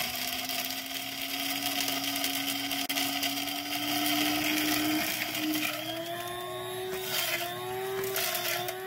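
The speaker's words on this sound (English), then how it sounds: "So now put it in the coffee grinder." An electric coffee grinder whirs steadily while grinding dehydrated blueberries into powder, a loud continuous motor drone whose pitch slowly climbs as the fruit breaks down, with rattling grit on top.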